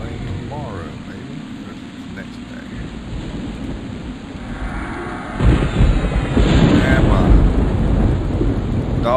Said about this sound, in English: Nice rainy day.